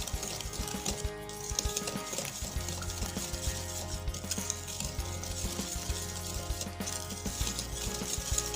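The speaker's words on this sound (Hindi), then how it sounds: "इसको अच्छी तरीके से मिक्स करेंगे" Plain fruit cake batter, with a spoonful of flour just added, is mixed vigorously in a steady run of scraping, stirring and light clinks that carries on without pause.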